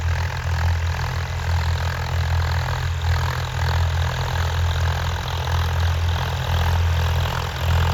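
Steady low drone of an 855 tractor diesel engine working a farm field, a loud, unbroken rumble with a strong low hum that stays even throughout, with no voices.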